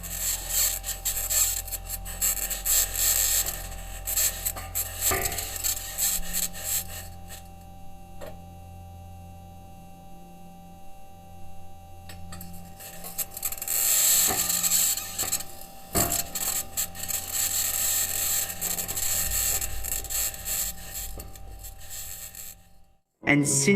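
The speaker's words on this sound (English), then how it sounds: "the sounds of the suspension and the wheels in direct contact with the surface of another planet" Mars rover wheels and suspension rolling over the Martian surface, a continuous grinding, scraping rumble with rasping friction, easing to a quieter stretch midway before the loud crunching returns, ending in an abrupt cutoff.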